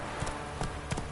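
Horse hooves clip-clop in a video game, three distinct thuds in a short steady sequence, close and moderately loud over a faint background hum.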